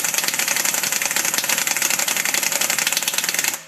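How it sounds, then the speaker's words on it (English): An impact wrench delivering 435 lb of torque to an overtightened lug nut on an aluminum wheel, a loud, continuous rapid hammering rattle running steadily and close, then stopping abruptly. "this wrench here at 435 pounds of torque will not remove it"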